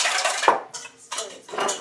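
Whisking Dijon mustard into a creamy lemon dressing in a bowl, with a sharp utensil clink against the side followed by several bursts of brisk scraping and stirring, close and fairly loud.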